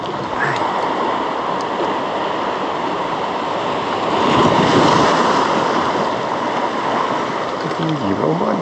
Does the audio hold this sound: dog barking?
no